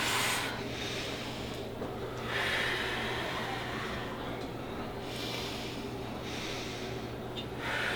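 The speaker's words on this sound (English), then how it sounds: "Take 3 long, deep breaths in for me" A person takes long, deep breaths in, several slow inhales rising and falling at close range, quiet and breathy with no talking.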